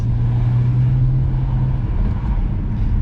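A 2008 BMW 335xi engine running with a steady low rumble and a held tone that fades out partway through, loud and close with no talk.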